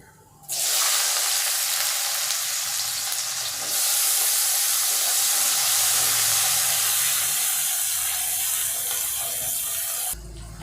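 Chopped onion dropped into hot oil for a Bengali aloo potol rosa, a sudden loud sizzle that jumps up, swells brighter midway and cuts off near the end.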